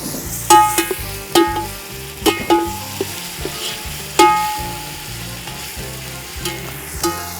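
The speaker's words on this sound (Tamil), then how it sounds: "இப்போ அடுத்தது இஞ்சி பூண்டு பேஸ்ட்டு, 100 கிராம் இஞ்சி, 100 கிராம் பூண்டு போடுறேன் பாருங்கள்" Ginger garlic paste fries with onions in a pot for a large batch of mutton biryani: a loud, close sizzle broken by repeated sharp metallic clangs of a stirring spoon striking the pan.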